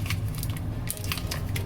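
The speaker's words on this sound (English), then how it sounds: "Scissors." Several short crisp snips and crunches of scissors cutting through the packaging of a Posca giant marker, close by, over a low steady hum.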